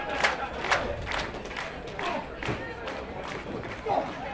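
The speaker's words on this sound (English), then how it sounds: "The crowd trying to fire both of these guys up." Crowd cheering and shouting at an independent pro wrestling match, with rhythmic rising cheers and claps through the arena under a commentator talking.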